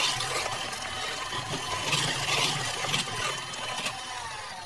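An electric mixer whips cream for a Black Forest cake filling, giving a steady, continuous whirring drone with a broad hiss that holds fairly evenly throughout, close up and with no talking.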